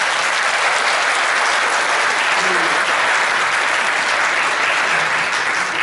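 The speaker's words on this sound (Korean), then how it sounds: "모두를 위해서 박수를" A hall full of attendees at a 2015 Gumi training session for private academy educators clap together in a long, even, dense round of applause that holds at a steady level throughout, with only a faint voice briefly audible beneath.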